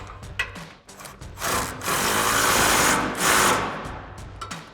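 Power tool whirring and ratcheting on 18mm bracket bolts while a Westin HDX grille guard goes onto a 2016-2023 Toyota Tacoma, with sustained buzzing bursts and brief pauses between runs, close and fairly loud.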